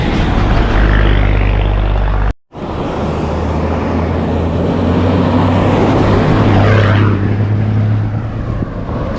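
A loud, heavy vehicle engine roars and drones close by as an old Guatemalan chicken bus barrels along a road near Lake Atitlán, a deep rumble swelling and shifting as it passes, with one brief dropout.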